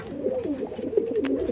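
A pair of Kalanka and Abluk pigeons coo close by, their soft rolling calls repeating steadily in overlapping waves with no other sound.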